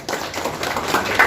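Applause for a party member at a Jana Sena membership gathering in Tirupati: a short burst of many hands clapping, steady and fairly close, with no talk over it.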